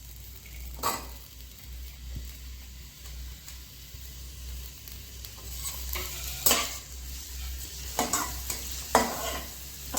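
Onions frying in a pan on a gas stove until golden brown, with a low steady sizzle broken by several sharp scraping stirs of a spatula toward the end.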